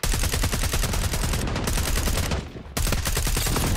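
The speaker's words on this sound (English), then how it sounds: "I'm getting shot at everywhere." Loud, sustained automatic gunfire in Call of Duty Black Ops 6, dense rapid shots with a brief lull near the end before the firing resumes.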